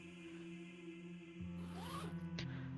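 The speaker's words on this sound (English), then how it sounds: "the zip makes a familiar zzz sound" A zipper on a body bag is pulled open in one quick rasping stroke, close and clear over a steady low electrical hum, with no voices.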